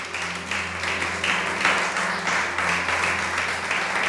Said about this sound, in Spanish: Dale ese aplauso al Rey